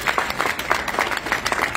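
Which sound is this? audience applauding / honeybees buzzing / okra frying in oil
audience applauding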